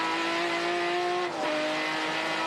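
A touring car engine at Winton in the Touring Car Masters drones loudly on board, its steady high tone dropping abruptly mid-clip as the gears change down, with tyre and track rumble beneath and no voices.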